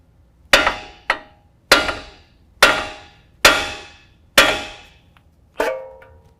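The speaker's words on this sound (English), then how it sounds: "use a little mallet or a little mini sledge, hit the side of the spindle" Small mallet or mini sledge striking the spindle of a 2019 GMC Sierra 1500 truck to free a tie rod, seven sharp metallic clanks at a steady pace, each ringing out briefly.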